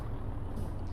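A truck's air brakes hiss steadily in Euro Truck Simulator 2, a continuous close breathy rush over a low engine rumble with no talk.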